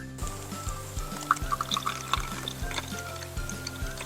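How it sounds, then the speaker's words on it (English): Water poured into an essential oil diffuser while making a birthday-cake scented blend, a light liquid trickle and splash with small drips, close and clear over a steady rhythmic background beat, no talking. "Now let's add our water."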